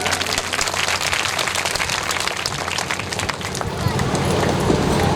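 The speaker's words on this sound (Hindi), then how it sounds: "एक बार ताली बजा दो जोर से।" Loud, dense applause from an audience at a Hindu religious Bhagwat katha gathering, steady clapping sustained throughout and rising slightly toward the end.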